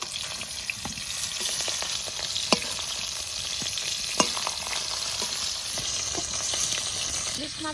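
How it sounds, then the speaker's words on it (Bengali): A hilsa fish head rubbed with salt and turmeric fries lightly in mustard oil in a kadai, giving a continuous crackling sizzle with scattered sharp pops and utensil taps. "ইলিশ মাছের মাথা বেশি ভাজবো না, একটু হালকা করে ভেজে নিলাম"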